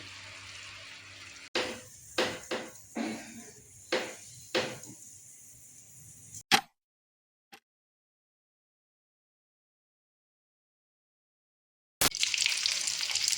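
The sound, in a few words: fish added to curry, frying in pan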